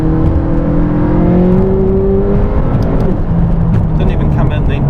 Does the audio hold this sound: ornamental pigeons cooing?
no